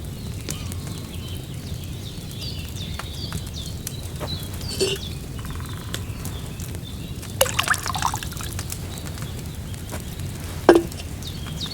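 Wine poured from a pitcher into a cauldron in Kingdom Come: Deliverance II, a soft steady liquid trickle with faint drips under a low ambient hum, plus a few brief clinks and splashes near the end.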